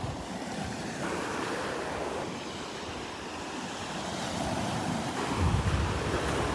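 Onshore wind blowing across a Gulf beach at Delnor-Wiggins, a loud unbroken roar of gusts buffeting the microphone, mixed with washing surf and swelling slightly near the end, with no voices.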